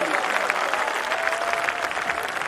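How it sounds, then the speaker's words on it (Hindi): An audience at a Hindi comedy poetry gathering breaks into loud, steady clapping, dense and continuous for a couple of seconds, with a faint murmur of voices mixed in. "तालियां तो बजनी चाहिए संकल्प के"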